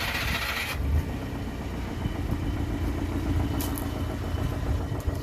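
John Deere minitruck engine starting, a burst of cranking and catching followed by a steady, close, even-running idle with a mid-pitched rumble.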